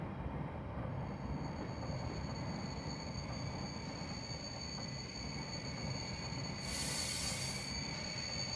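A Sacramento Northern SN 1003 interurban train in Train Simulator rumbles along steadily, with a constant low rolling noise, faint tonal hums above, and a brief burst of hiss near the end.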